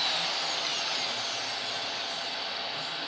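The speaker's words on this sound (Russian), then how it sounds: "при помощи этих шарошек, дрели и рук срезаю лишний металл" A drill spins a metal burr that grinds excess metal from a Mitsubishi Pajero 4D56 cylinder head, giving a steady, close, high whirring cut with no pauses.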